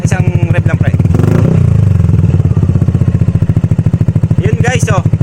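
A Yamaha NMAX V2 scooter with a full-system Akrapovic M1 exhaust revs loudly and close by, with a deep throbbing idle that swells into a rev before settling back. Voices speak faintly over it.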